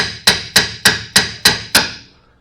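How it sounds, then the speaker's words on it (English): Six sharp, evenly spaced hammer blows ring out on a tightly torqued part while a windshield is being worked on, each strike loud and close with a short metallic decay, the last one fading out. "I hate to beat on stuff with the hammer."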